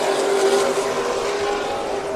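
Race car engines roaring in a heat race at Stockton 99 Speedway, a steady loud drone with tonal engine whine and no pauses.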